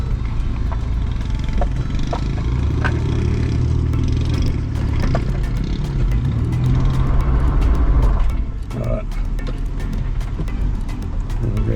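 A vehicle climbing a rough uphill track in four-high with some wheel spin, its engine a heavy low rumble under constant clattering and knocking from the rocky ground, with a brief dip near the end.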